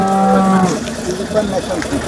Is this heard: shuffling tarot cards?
no